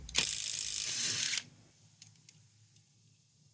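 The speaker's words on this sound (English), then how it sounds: "Just take the HyperTough and let's take a couple off here." A HyperTough 12V impact wrench spins a 19 mm lug nut off in one loud, close burst of rapid hammering for about a second, then falls quiet apart from a few faint clicks and handling noises.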